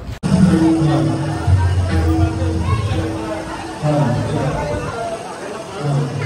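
A busy crowd at a Ram Navami village fair fills the air with dense babble and overlapping voices, close and continuous, with nearby people talking over the general hubbub.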